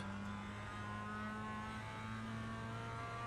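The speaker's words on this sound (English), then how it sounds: "Let it rev out in third a couple times" Mazda MX-5 engine revving hard on a race track, a steady loud buzzing drone heard from inside the car, sustained without a break and with no talk.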